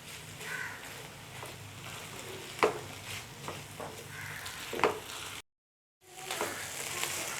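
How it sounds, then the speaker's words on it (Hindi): Onion and capsicum fry in a pan for a shawarma and pizza sandwich filling, giving a steady soft sizzle with a few sharp clicks of stirring and a brief dropout near the end. "अब 1 से 2 मिनट हम इसको और भूनेंगे।"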